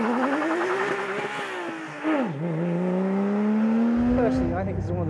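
A Porsche 911 GT3 RS engine revs up loudly and steadily toward its high-rpm red line, dips briefly as it shifts, then climbs again with a punchy, rising wail close to the listener.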